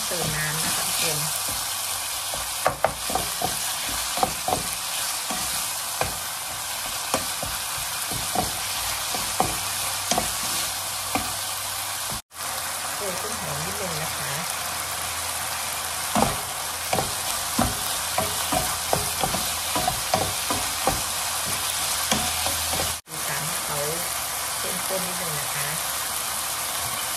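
Pork with ginger stir-frying in a pan sizzles steadily and loudly at close range, with frequent clattering strokes of a spatula in an irregular rhythm. Two short breaks interrupt the cooking, and a voice talks faintly at times.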